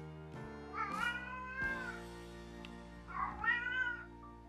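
A pet cat meows several times close by, drawn-out, wavering cries in three separate bursts over a quiet background, with no talking.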